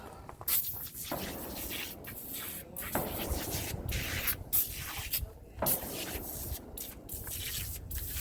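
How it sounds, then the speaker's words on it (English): Repeated hissing bursts of engine degreaser spray on a 1948 Chevy truck engine come close up, several short blasts separated by brief pauses, with dripping and wet squishing between them. "we're going to spray this engine degreaser on here first"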